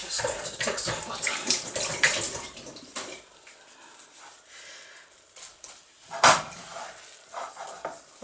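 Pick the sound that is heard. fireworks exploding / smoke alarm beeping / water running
water running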